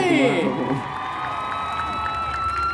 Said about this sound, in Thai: ปรบมือแบ๊บแบด้วย